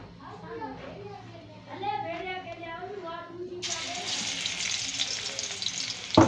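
Garlic dropped into hot leftover pakora oil for a kadhi gravy bursts into a loud, steady sizzle partway through, after a stretch of someone talking over the quiet pan.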